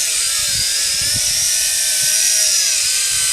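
A Tarantula X6 hexacopter drone flies close by in strong wind, giving a loud, continuous high-pitched whine. The pitch glides up and down as the throttle changes, and gusts of wind thump underneath.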